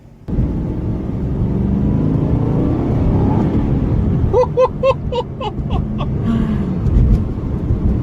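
Aston Martin V8 Vantage engine running steadily while driving city streets in Philadelphia, a continuous close rumble with a few clicking or tapping sounds midway.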